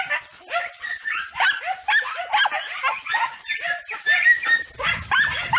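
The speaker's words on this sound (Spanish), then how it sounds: "Mira el perro." Andalusian podenco hunting dogs bark and yip in quick, excited bursts, close and loud, with whimpering cries mixed between the barks throughout.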